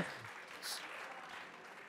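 Applause from an audience at an Italian podcast, a brief dense wash of clapping at moderate volume, steady and slightly fading.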